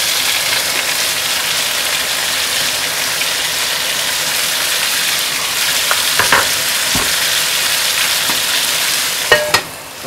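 Beef roulades fry in a pan with a loud, steady sizzle, punctuated near the end by a few clinks and scrapes as they are turned.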